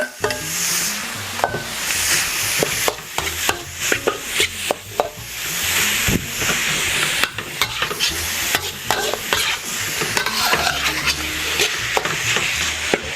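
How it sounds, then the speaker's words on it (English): Ground beef mince sautéing in a pan with garlic for Filipino sweet spaghetti, a loud close sizzle punctuated by frequent sharp scraping and tapping stirs of a utensil against the pan. "you want to give this a bit of a saute until the mince changes colour"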